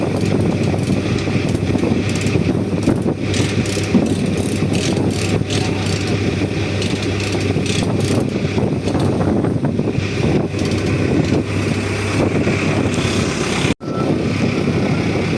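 Heavy machinery with a large engine runs in a steady, loud drone full of rumbling mechanical noise, continuous for the whole stretch apart from one brief dropout near the end.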